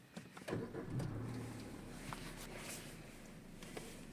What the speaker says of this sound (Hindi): एक बार अब गाड़ी को हम स्टार्ट भी कर लेते हैं।